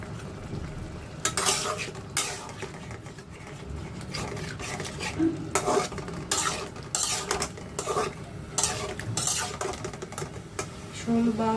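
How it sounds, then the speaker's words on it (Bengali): Raw fish, snakehead or similar, stirred and sautéed in a pot over a home stove, with repeated scraping clatters of a spoon against metal over a steady low sizzle, loud and close, no talking. "এখন আমি মাছগুলো দিয়ে কষিয়ে নেব।"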